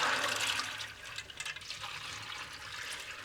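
Running water rinses and drains split peas in a kitchen, a steady close gush of splashing liquid that gradually eases, with no talking.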